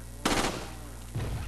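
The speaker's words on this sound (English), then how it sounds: "I'm going to snipe these bitches out" Two booming sniper rifle shots ring out in Resident Evil 4, loud and near with a sustained roaring tail after each blast, spaced about a second apart.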